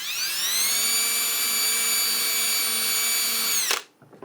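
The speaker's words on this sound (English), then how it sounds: "I've got my set of drill bits. I'm going to be using a 5/32 to begin with." Power drill with a 5/32 drill bit cleaning out holes in a Flite Test F14 Tomcat model build, whirring loud and steady for several seconds before spinning down abruptly.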